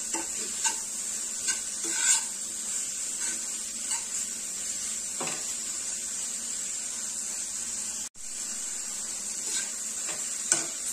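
Vegetables being stirred and mixed in a pan, a spoon scraping the pan in recurring strokes over a continuous frying hiss, close and moderately loud, with one sharp knock near the end.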